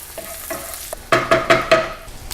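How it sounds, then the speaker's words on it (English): Garlic sizzles in browning butter over low heat as it is stirred, a soft frying hiss broken by four firm, close stirring scrapes in quick succession near the end. "I'm going to throw the garlic in, turn down the temperature to pretty low. Just kind of stir that in there and get things going."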